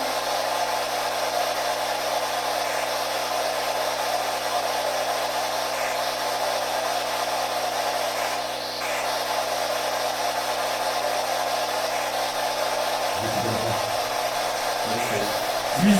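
A pump runs with a steady, even hum and hiss that stays constant throughout, with a few low thumps near the end.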